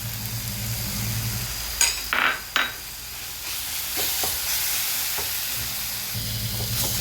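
Banana frying in ghee with coconut added sizzles steadily in a pan, with a few short bursts of clattering stirring over the continuous hiss.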